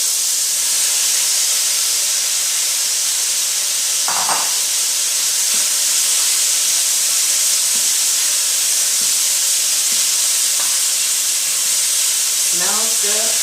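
Steady loud hiss and sizzle of broccoli and other vegetables hitting a hot pan with browned beef for Chinese beef and broccoli, with occasional clinks of stirring and a faint voice.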